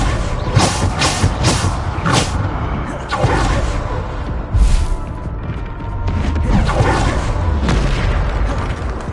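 Bombarda blasting spells exploding in Hogwarts Legacy, several booming bursts with crackling debris spaced a second or two apart over a steady rumbling background.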